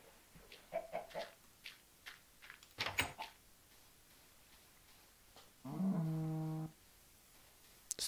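Chicken clucking in the Minecraft video game: a few short, scattered clucks, then a sustained, buzzy, tonal call near the end, mixed with other soft in-game noises and a brief sharp knock.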